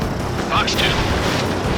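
Missile fired from a fighter jet in Ace Combat 7, a loud whooshing roar under continuous engine and cockpit noise, with a voice speaking over it.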